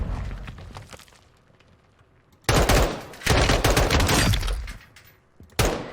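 Heavy automatic gunfire in the PC shooter Call of Duty Modern Warfare 2, loud sustained bursts starting midway and returning in a final short volley after a quieter stretch of distant shots.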